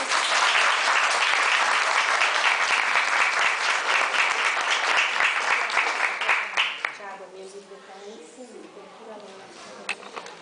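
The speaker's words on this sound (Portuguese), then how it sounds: "Nós podemos até aplaudir essa palavra." A church congregation at a Portuguese-language spiritual seminar breaks into loud, dense applause for several seconds, which fades out into a speaker's voice continuing over the quieting room.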